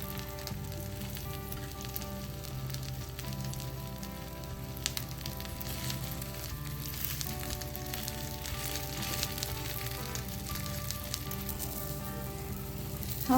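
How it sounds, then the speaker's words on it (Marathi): A paneer kathi roll shallow frying in a pan gives a steady, even sizzle and crackle of hot oil, close and continuous with no talking. "दोन्ही बाजूनी आपल्याला शॅलो फ्राय करायचा आहे."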